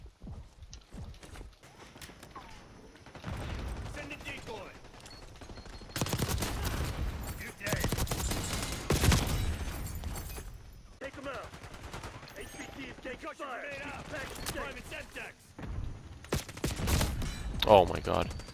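Gunfire in the Call of Duty Black Ops zombies mode rattles in repeated bursts through a busy game mix, with loud peaks near the end.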